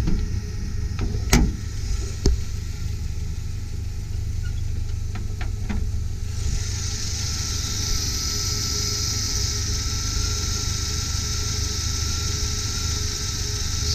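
A 2000 Jeep Cherokee with a 2.5-liter four-cylinder engine and five-speed manual runs at a steady idle, a low continuous rumble with a few sharp clicks early on and a brighter hiss joining halfway through.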